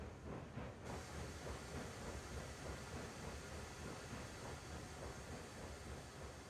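A long freight train of 25 cars hauled by a double-header in the railway game RAILROADS Online, rolling with a steady low rumble, hiss and faint wheel clatter, constant and moderately quiet throughout.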